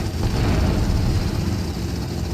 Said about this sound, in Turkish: Tommy indir şu helikopteri